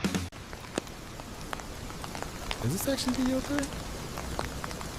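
Steady rain falls in an AI-generated scene, a continuous dense patter heard throughout with a voice speaking over it.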